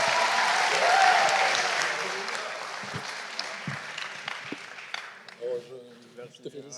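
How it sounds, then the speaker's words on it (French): Applause from an audience at a university graduation ceremony swells loudly, then thins out and fades over a few seconds as scattered claps and voices remain. "Merci d'applaudir comme il se doit"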